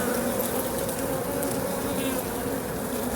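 Honey bees at an open hive being split with grafted queen cells make a dense continuous buzz, loud and close, with no voices.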